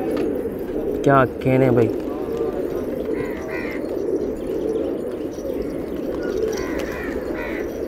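A rooftop flock of about 250 desi pigeons coos softly as a low, continuous murmur in the background. Someone speaks briefly over the birds, and faint chirps come through now and then.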